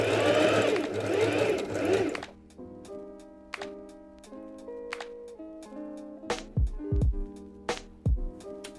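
Fabric bias tape strips are joined with a sewing machine; a close burst of rapid mechanical stitching gives way to lighter taps and clicks, then a few soft thumps.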